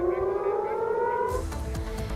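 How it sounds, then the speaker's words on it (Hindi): Air raid sirens wail after a drone incursion in the Tamra area, a steady tonal siren that shifts partway through as a second, rougher siren sound rises beneath it, loud and continuous throughout. "तमारा इलाके में ड्रोन आने के बाद सायरन भी बजने लगे।"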